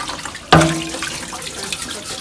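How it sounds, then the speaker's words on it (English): Tap water gushes on abruptly and keeps running steadily at close range while a protein skimmer part is scrubbed under the faucet in a sink. "You just got to keep the water running as you scrub."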